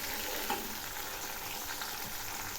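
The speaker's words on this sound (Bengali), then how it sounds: "এই টমেটোগুলো একটু ভেজে নেব।" Tomato pieces and onions frying in a pan for a Bengali rui fish curry give a dense, even sizzle, close and steady for a couple of seconds with no one speaking.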